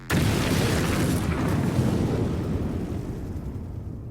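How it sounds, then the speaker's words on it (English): An explosion at the Mishima estate in the Tekken 7 video game starts as a sudden loud blast, then becomes a dense, rumbling roar that slowly fades over several seconds. "It all started with an explosion in the heart of the Mishima estate."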